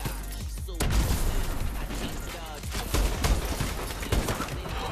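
Rapid bursts of laser gunfire in a first-person shooter video game, sharp repeated shots cracking in quick clusters over a busy background of game noise.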